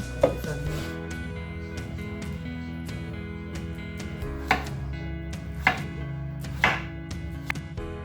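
Pumpkin being chopped on a board for a pumpkin compote: a steady run of knife strokes with a few sharper, louder cuts standing out, close and with no talking.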